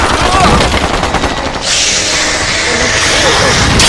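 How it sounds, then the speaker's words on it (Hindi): Loud, rapid automatic gunfire rattles without pause, a dense continuous burst with a harsher hiss joining halfway through. "बिना रोके गोली चलाते रहो।"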